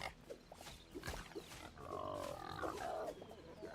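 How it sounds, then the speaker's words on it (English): Two pigs in the game Hytale grunt and snort in short rough bursts, with a longer drawn-out squeal in the middle, fairly quiet and with no talking over them. "Oh, there are 2 pigs."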